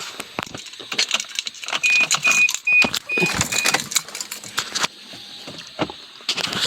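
A Proton Persona car starts up, with rattling, jangling bursts and mechanical whirring close by. The sounds are fairly loud and no one speaks.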